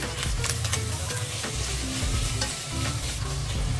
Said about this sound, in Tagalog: pag nagigisa ako, inuuna ko po muna yung mga karne kasi gusto ko naluluto agad muna sila